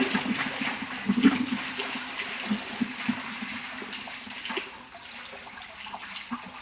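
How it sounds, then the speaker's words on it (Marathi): Water splashes and runs steadily while poultry shed feeder and drinker containers are washed, close and continuous with small spatters throughout. "आपण पूर्ण भांडे खाद्याचे भांडे पाण्याचे भांडे एकदम व्यवस्थितरित्या साफसफाई करून घेत असतो"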